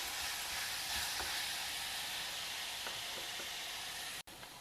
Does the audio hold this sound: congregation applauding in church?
no